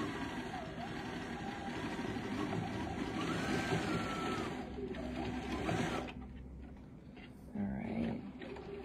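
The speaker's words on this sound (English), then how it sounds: "And I am just stitching over my hand side piece." A BERNINA sewing machine with a stitch regulator stitches fabric for small art trading cards, a steady mechanical whirring hum up close that pauses briefly and then resumes.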